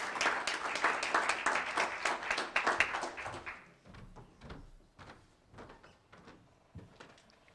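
An audience at a book presentation gives a dense burst of applause for about three and a half seconds, then it thins to scattered, separate claps that fade out.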